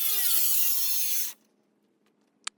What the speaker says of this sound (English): To make these rip cuts, I'm using an angle grinder with a diamond tip blade